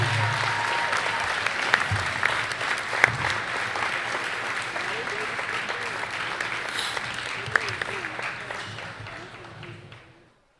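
Sustained crowd applause at a Grayson County High School basketball senior night honoring the 2022-2023 seniors, a dense steady roar of clapping for about ten seconds that fades out at the end.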